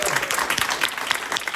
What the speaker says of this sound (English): Can we give a round of applause for Julia?